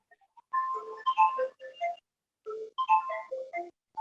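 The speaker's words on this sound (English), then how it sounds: "Someone's phone is ringing." A phone rings with a bright melodic ringtone, two bursts of rising and falling tones separated by a short pause, clear and alone.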